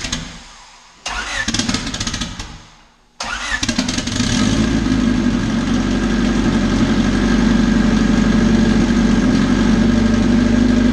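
A Honda D16 engine running on E85 cranks twice, with a short gap between attempts, then catches and settles into a loud, steady idle close by.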